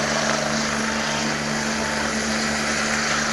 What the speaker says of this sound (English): The Avera helicopter coming in.